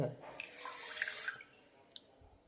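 Soft rasgullas squeezed by hand to press out cold water, a wet trickling and dribbling that runs for about a second and a half, then fades to faint drips and a small click.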